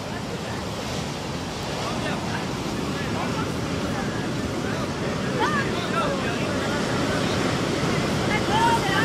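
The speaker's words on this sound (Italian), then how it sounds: "Però guarda le onde là, guardate le onde là." Ocean waves of the 2004 tsunami on the coast of Thailand make a steady, broad roar of surf mixed with wind noise, with faint voices in the background.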